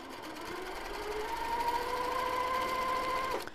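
A sewing machine stitches a quilt block, producing a steady, even mechanical whir with a rising motor tone that runs continuously before stopping abruptly at the end.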